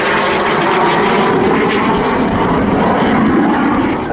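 A Jet Provost Mark III trainer aircraft flies past at the Southport Airshow, a steady, loud engine roar filling the whole stretch without a break.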